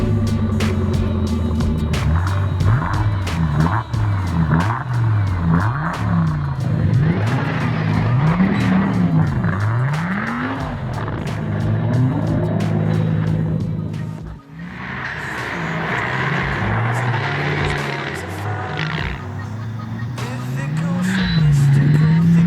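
A 2018 Audi RS6 of about 750 horsepower on very good winter tyres revs hard, with engine pitch climbing and falling through repeated acceleration and tyre squeal, loud and close, before a brief lull and more revving.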